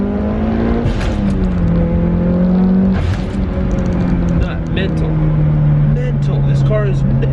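Tuned Mitsubishi Lancer Evo 8 with about 400 wheel horsepower accelerating hard, a loud, steady engine drone climbing through a couple of gear pulls, close up from inside the car, with brief voices over it.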